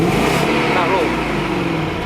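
A BMW 735iL V8 engine, recorded near the exhaust, revs up with a deep, loud, throaty rumble rising and falling in a short burst.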